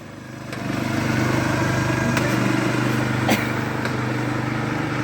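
Lawnmower engine on a pulley-swapped mower running fast, a loud close, even drone with rhythmic clatter that swells in the first second and then holds steady.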